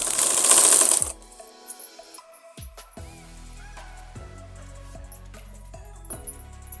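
A sewing machine stitching fabric for a belt salwar, running in short bursts of rapid mechanical clatter between quieter clicks and handling noises after a brief loud rush at the start.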